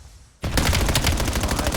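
Rapid automatic gunfire erupts abruptly in an esports video game match, Atlanta Guard versus Toronto Kryptic, a loud sustained burst of evenly spaced shots following a brief quiet lead-in.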